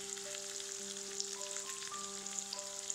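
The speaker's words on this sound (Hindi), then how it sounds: "लोहिया गरम केलहुँ, ओहिमे मेथी आ मिरचाइके फोरन दऽ कऽ आलू दऽ देलहुँ हैं।" Potato pieces fry steadily in a hot iron pan tempered with fenugreek seeds and chili, a soft continuous sizzle with faint crackles, while sustained musical tones play over it.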